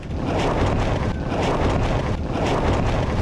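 Strong outdoor wind buffets the microphone with a loud, continuous roaring rumble that surges and dips slightly over a few seconds, alone with no talk.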